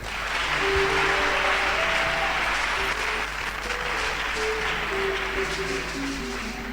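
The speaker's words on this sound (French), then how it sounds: "Sous vos acclamations." A church congregation in Ouagadougou applauds and cheers during a broadcast worship service, sustained clapping with voices calling out and ringing acclamations layered over it, steady and moderately distant throughout.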